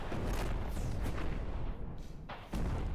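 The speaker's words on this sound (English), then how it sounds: "Coordinates confirmed. Firing barrage at Hotel 3." Artillery barrage in the video game Radio General, a rolling series of deep booms and blasts layered densely over a few seconds, loud and rumbling with a brief lull before resuming.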